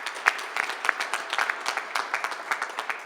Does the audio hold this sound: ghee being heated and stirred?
no